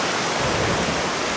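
Steady rain falls in a Peppa Pig cartoon, a dense, even hiss of downpour that stays constant throughout with no voices over it.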